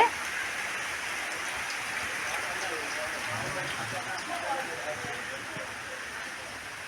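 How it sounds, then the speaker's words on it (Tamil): Heavy rain pours on a terrace garden, a dense, continuous hiss that holds steady and fairly loud throughout without breaks. "பயங்கரமாக மழை பெஞ்சிட்ருக்கு"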